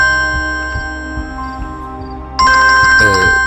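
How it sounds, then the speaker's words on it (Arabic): Telephone ringing in a home during a family meal, an electronic ringtone that starts partway through and rings loudly over the closing seconds, following a quieter stretch with faint background sound. "لازم رد على التليفون"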